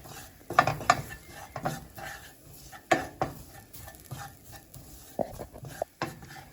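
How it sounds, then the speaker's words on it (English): Seasoning sautés in a pan for coconut shrimp curry, with irregular scraping, stirring, and clinks of a utensil against the pan over a faint sizzle. "So give it a nice saute."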